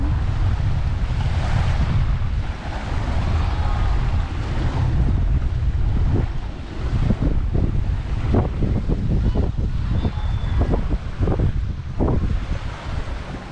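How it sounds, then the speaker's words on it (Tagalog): Strong sea waves crash and churn steadily on the coast at Barcelona, Sorsogon, with heavy wind buffeting the microphone throughout. "Ang lakas ng alon."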